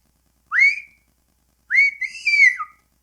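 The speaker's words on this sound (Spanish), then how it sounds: "Silbó de nuevo de modo familiar" Two clear whistled phrases: a short rising whistle, a pause, then a longer sliding whistle, close and alone against silence.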